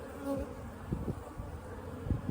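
Honeybees buzz around a queen cage in a hive cluster, a soft continuous drone with a few louder passes close by and no talking.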